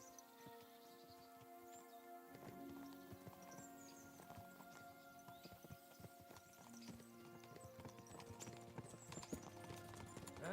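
Horse hooves clip-clop steadily at a walking pace in The Witcher video game, with a continuous background of ambient noise and music-like tones.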